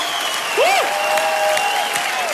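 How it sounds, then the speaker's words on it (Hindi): Steady studio audience applause on a televised dance competition show, dense and even throughout with whistling tones cutting across it. "जोरदार तालियां प्लीज"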